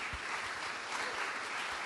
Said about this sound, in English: Can I get a round of applause for the panelists just before we go to one question?